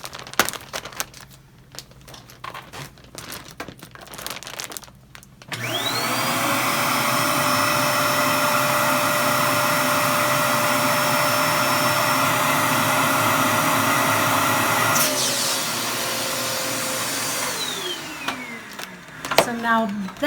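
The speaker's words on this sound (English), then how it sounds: "And then here comes the vacuum." An electric vacuum pump drawing air out of a plastic storage bag starts abruptly and whines steadily for about ten seconds, then spins down, with crinkling plastic and brief talk around it.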